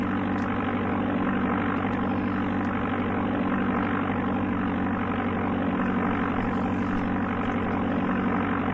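Steady, droning propeller-plane engine from Amiga Flight Simulator II, a constant buzzing hum with a fixed pitch that holds unchanged and fairly loud throughout, with no talking.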